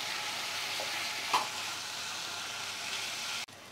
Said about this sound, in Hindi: ड्राई मसाले डालने के बाद हम एक से दो मिनट और भूनेंगे, जब तक साइड से तेल अलग न दिखने लगे